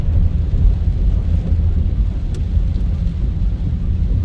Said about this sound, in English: It's a rain drive.